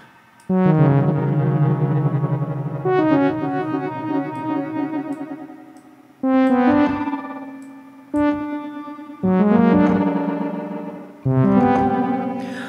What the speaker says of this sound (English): Strange sort of reverb.